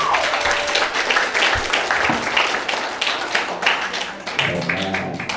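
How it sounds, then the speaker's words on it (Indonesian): Audience applause at an Islamic boarding school gathering in Indonesia, a lively burst of many hands clapping with uneven rhythm, a few sharper individual claps and faint voices beneath. "Tepuk tangan untuk beliau."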